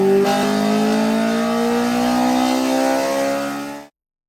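Honda engine winding up as VTEC engages, a loud, close, rising rev with steadily climbing pitch that holds for several seconds before cutting off abruptly.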